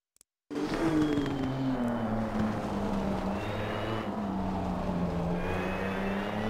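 A Nissan GTR GT3 race car engine at Spa in the racing game Assetto Corsa Competizione starts abruptly after a brief silence, then drones loud and steady with a sustained engine note that sags slightly and holds, with no talk.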